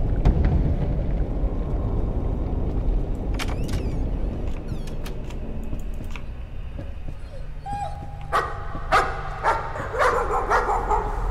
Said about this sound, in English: It's like a hell spawn dog.